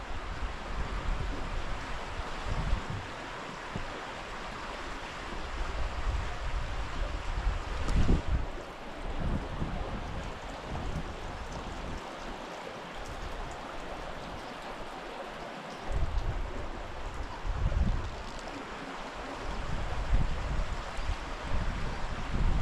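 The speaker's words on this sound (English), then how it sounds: "lovely sound of the water trickling over all those stones" Water from a burn trickles and splashes over many stones, a steady broadband wash lasting the whole stretch with outdoor wind in the background and no talking.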